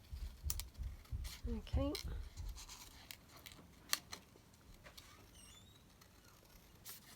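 Scissors cut out a small paper banner at close range, with a run of crisp snips and rustles, then quieter scattered paper handling afterward; someone speaks one brief word near the start.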